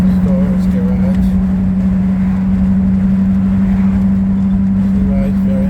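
A 1928 Ford Model A Sport Coupe on the road in Sandwich, Massachusetts, heard from inside as a loud, steady engine drone with a deep constant hum and road rumble throughout.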